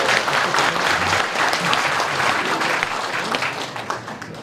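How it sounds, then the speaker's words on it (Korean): Steady applause from an audience at a Korean political fan club's New Year ceremony, dense clapping that holds for a few seconds before thinning out at the end. "박수 한번 쳐드리려고 했는데"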